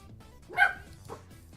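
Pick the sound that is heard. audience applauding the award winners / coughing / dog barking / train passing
dog barking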